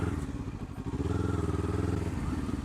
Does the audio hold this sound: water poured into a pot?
no